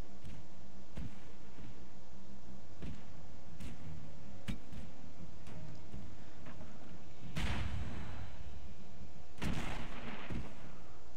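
Airships exchange cannon fire in the video game Airships: Conquer the Skies, with scattered sharp thuds and pops over a steady rumble and two heavier booming impacts near the end.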